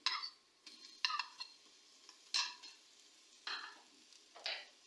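Ginger garlic paste frying with browning onions in a pot: repeated bursts of sizzling and stirring scrapes, about five strokes spaced a second or so apart, close and clear with no talking.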